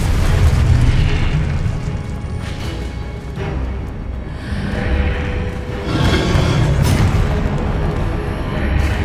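Confringo fire spell explosions in Hogwarts Legacy, several loud, deep booms bursting in succession over a continuous roar, near and powerful.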